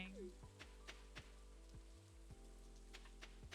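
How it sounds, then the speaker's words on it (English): Rain in the Stardew Valley video game on Ginger Island, a soft faint patter with clicky game effects and low tones over it. "Raining."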